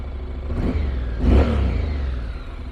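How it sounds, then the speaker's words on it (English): A 2014 Honda CTX700 DCT motorcycle engine idles, then gets two short revs, the second stronger, before settling back to idle close by. "give it a couple small revs for you"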